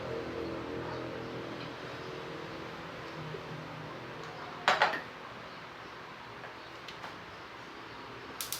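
A frying pan is handled in a home kitchen while chicken and bitter gourd are cooked, giving one short metallic clatter against a steady background hiss, with a few faint clicks afterward.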